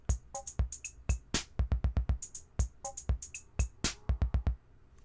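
Cherry Audio CR-78 rhythm machine runs a short chained song of patterns, crisp electronic drum hits, clicks and short tonal blips in a steady, busy rhythm, close and alone.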